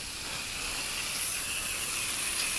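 Fine water mist sprayed steadily over a dead duck during rinsing, a continuous close hiss lasting the whole moment without pause or talk.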